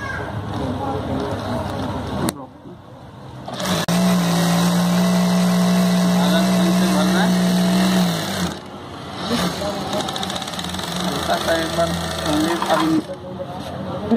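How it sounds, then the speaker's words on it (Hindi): A Jack F4 industrial sewing machine winds thread onto a bobbin, a steady mechanical hum and whir running about four seconds at close range, with quieter machine noise before and after and a voice speaking at times. "अब इसको हम चला के आपको दिखाएंगे। अब इसमें धागा भर के दिखाते हैं आपको"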